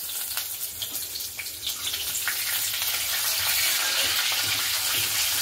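Bengali five-spice tempering sizzles in hot oil in a wok, a loud broad crackling hiss that builds and holds steady up close with no talk.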